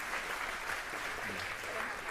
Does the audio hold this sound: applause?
yes